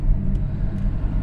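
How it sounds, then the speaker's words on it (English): A Renault 9 car engine with a slipping clutch rumbles steadily from inside the car, a brief low continuous drone with no speech. "so we've got tremendous clutch slip, so I think that clutch is on the way out, sadly."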